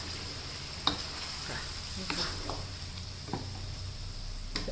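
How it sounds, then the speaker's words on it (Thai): Thin coconut milk goes into a panang pork curry and is stirred, giving a constant low simmering sizzle with soft squishy stirring and occasional light utensil taps. "ใส่หางกะทินะคะลงไปค่ะ"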